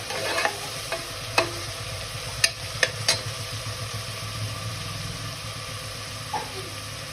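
Chopped vegetables fry and get stirred in oil in a pan while making vegetable pulao, a steady low sizzle with several sharp scraping clicks from the stirring, alone with no talk.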